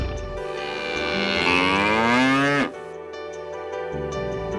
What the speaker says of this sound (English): Say moo. A cow always moos.